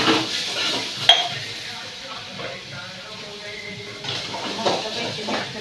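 Onion and cumin being stirred in a pan with mustard seed, a spoon scraping and clinking against the metal amid a soft sizzle, close and fairly quiet, with sharper knocks now and then.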